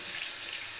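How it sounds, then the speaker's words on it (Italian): Cold water runs steadily from a tap into a sink to rinse the face after a traditional shave, a close, even hiss of flowing water across the whole moment. "Andiamo a sciacquare il viso con acqua fredda"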